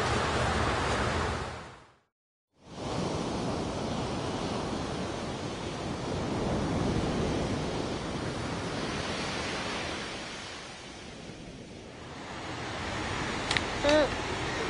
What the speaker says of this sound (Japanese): 今日波高いね。